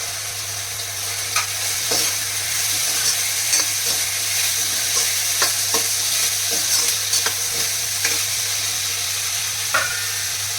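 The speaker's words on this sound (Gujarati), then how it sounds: "હવે આપણે આ કેપ્સિકમ નાખશું" Capsicum is tossed into a frying cauliflower and potato sabzi and stirred, giving a continuous soft sizzle with repeated scrapes and taps of a spoon against the pan, close and steady over a low hum.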